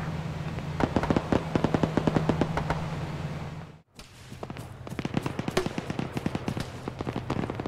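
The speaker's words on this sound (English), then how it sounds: "Hotel contact, shots fired." Rapid bursts of gunfire in a video game mission crackle loudly and continuously, many sharp shots in quick succession, broken by a brief silent gap before the firing resumes.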